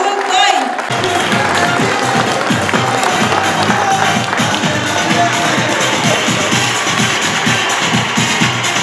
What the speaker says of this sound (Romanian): Înseamnă că o să-i aplaudați primii și cel mai tare